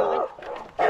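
A dog barks nearby in a short burst, two quick barks in about a second, close and fairly loud.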